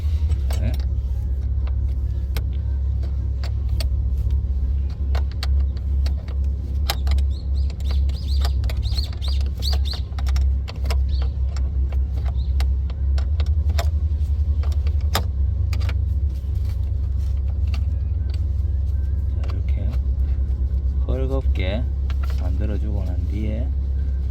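Car engine idling steadily as its battery terminals are disconnected, a constant low hum running throughout with tool clinks, faint bird chirps and someone talking over it.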